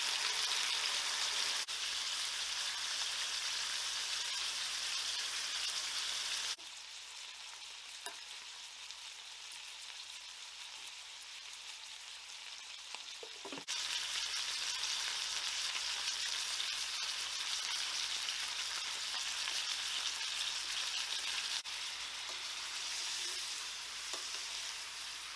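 Steak sizzles in a hot pan with a dense, continuous frying hiss that holds steady at close range, dipping briefly to a quieter crackle in the middle before the full sizzle returns.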